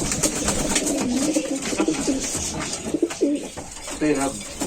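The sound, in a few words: racing homing pigeons cooing at a pigeon farm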